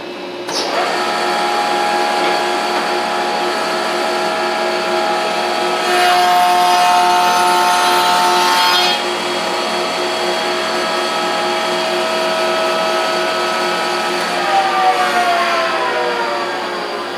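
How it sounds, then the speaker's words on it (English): A wood shaper fitted with a power feeder cuts a round-over profile, giving a loud, sustained whine that swells in the middle, then eases and shifts pitch toward the end. "we're going to throw it through our shaper with our power feeder on it, and it's going to safely put a round over on it"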